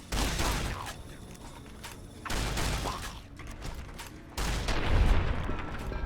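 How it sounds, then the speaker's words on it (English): Shotgun blasts in Fallout New Vegas: a few loud, broadband bursts a couple of seconds apart, each with a short decaying tail, heard alone without talk. "Shotgun."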